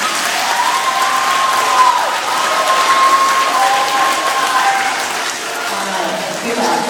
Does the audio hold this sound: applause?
yes